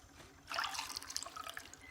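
Liquid pours and trickles steadily into a tractor's tank while it is refuelled with gas in the farming game Farmer's Life, entering abruptly and continuing over a low, rhythmic engine idle.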